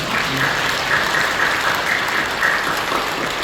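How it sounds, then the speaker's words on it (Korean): A church congregation claps in dense, continuous applause that holds at an even, loud level throughout without pause. "우리 감사와 영광 찬양의 박수를 올려드립니다."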